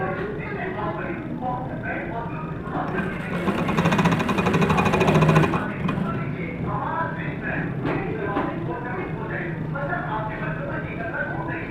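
A sewing machine stitching the shoulder seam of a girl's frock hums steadily under continuous talk, swelling louder for a couple of seconds midway as the stitching speeds up.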